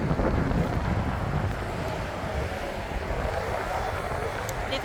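Strong, cold wind in Wellington, New Zealand, roars steadily across the microphone as a continuous low buffeting rush for the whole stretch.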